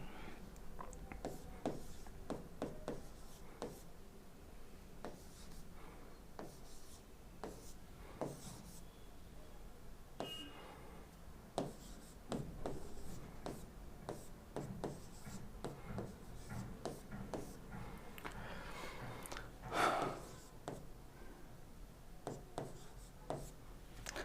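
Pen writing out four multiple-choice answer options for a coordinate geometry question, a steady run of soft scratchy strokes and taps that carry on throughout, close and quiet, with no talking.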